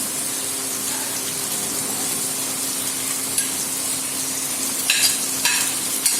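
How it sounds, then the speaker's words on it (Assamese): Pork frying in a pan with its rendered fat, sizzling steadily throughout, with a few brief clatters and splashes near the end as tomatoes go in. "মাংসৰ পৰা তেল ওলাইছে। এতিয়া আমি ইয়াত বিলাহী দি দিম।"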